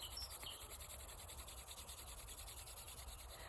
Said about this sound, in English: Rub your hands together. Generate some heat. Rub all over your hands,